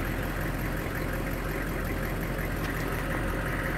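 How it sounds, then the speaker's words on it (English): A vehicle engine running steadily with its rear wheels stuck axle-deep in slippery mud, a dense, continuous low rumble close by, with no clear rises or breaks. "Each time I hit the gas, the rear wheels are so slippery right now, it just sinks."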